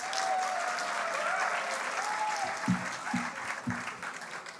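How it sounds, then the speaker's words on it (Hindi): A mushaira and kavi sammelan audience at IIT Bombay breaks into loud, sustained applause to welcome poet Balmohan Pandey, with a dense wash of clapping throughout and a few low thumps near the end. "जोरदार तालियों से स्वागत कीजिए"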